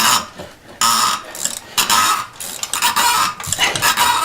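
Harsh metallic grinding and scraping in uneven bursts, loud and close, with short pauses between turns, as a spark plug is unscrewed from a fifth-generation Honda Accord engine, making an abnormal sound.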